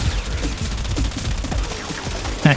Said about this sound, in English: the Felarx is now a machine gun, high rate of fire machine gun with infinite ammo